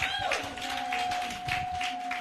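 An alumnae plenary audience keeps up a moderate, rhythmic clapping at a middling distance, with a steady sustained tone running beneath it throughout.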